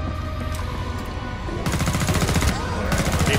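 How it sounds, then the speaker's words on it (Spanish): Loud, rapid bursts of automatic gunfire rattle continuously in Killing Floor 2, growing denser partway through. "Disparo, una muerte."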